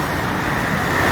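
Steady roadway traffic roars along a busy street in Chandivali, Mumbai, lined with garages, showrooms and service centres: a continuous broadband rumble of cars and heavier vehicles, fairly loud and unbroken, with no distinct horns or voices standing out.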